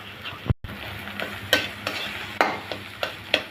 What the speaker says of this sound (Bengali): নেড়ে চেড়ে আমি ডিমটা ভালো করে ভেজে নিব।